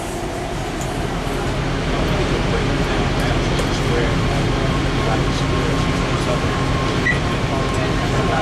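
Loud, steady rumble of a moving metro train from inside the carriage, a continuous roar with faint squeals and muffled voices.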